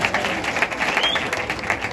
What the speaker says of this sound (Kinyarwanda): Bakomeye amashyi imiryango iteranira aha.